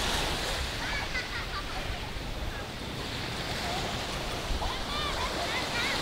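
Ocean waves wash steadily at Daplangu beach in Ujung Kulon, a constant surf roar with wind buffeting the microphone and a voice speaking over it.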